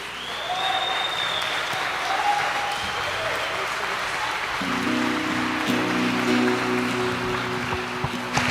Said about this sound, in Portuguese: dê o melhor aplauso que você puder para Jesus